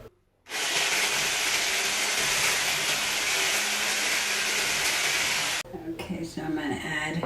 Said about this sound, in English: Mix it a little bit with my mixer.